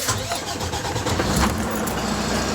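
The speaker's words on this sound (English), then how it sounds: "It ain't never started up like that since I've had the truck." A truck engine cranks and fires up, running loud and steady close by with a continuous low rumble throughout.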